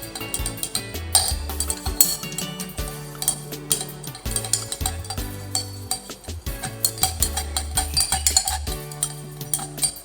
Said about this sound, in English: You stir until it has dissolved completely.